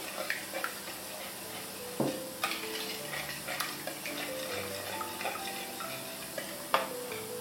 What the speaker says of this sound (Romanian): amestecăm toate ingredientele